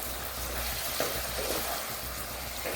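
Dried red chillies and panch phoron are stirred in a hot pan with ghee while making amra pickle, giving a soft, continuous sizzle with faint scraping from the stirring, close and fairly quiet.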